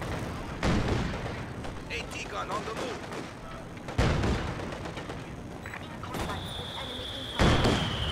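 An anti-tank gun and artillery fire in Company of Heroes 2, with three heavy, sharp booms spaced a few seconds apart, each followed by a rumbling tail, amid battlefield noise and shouted voices.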